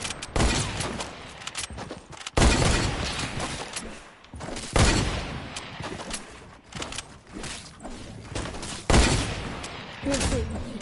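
Video game gunfire crackles in irregular loud bursts and volleys over about eleven seconds, with shots layered and clustered rather than evenly spaced.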